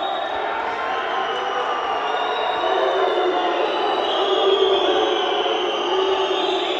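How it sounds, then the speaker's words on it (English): Crowd noise in a judo arena at a European U23 Championships bout, a steady roar of spectators that swells slightly as they call for a score, with commentary voices woven through it. "The crowd wants a score here"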